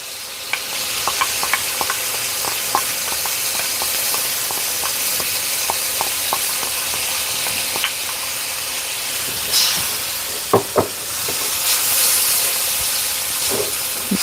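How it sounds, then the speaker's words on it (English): Beef and sauce sizzle while stir-frying in a pan, a continuous hissing sizzle with small pops and clicks of stirring, plus a few louder clanks near the end. "going to return the beef and any accumulated juices that it has back into the pan"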